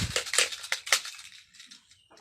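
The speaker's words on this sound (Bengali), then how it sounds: "আমরা এখন যে কাঁঠালের ভিতর অংশটা কেটে নিচ্ছি" A knife cutting into the inner flesh of a jackfruit produces a quick series of crisp, crunchy slicing strokes up close, thinning out into a few quieter scrapes toward the end.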